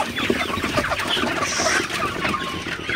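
Sonali super hybrid chickens in a shed crowd around water on a hot afternoon, clucking and murmuring in a dense, continuous flock chorus at close range with no talking.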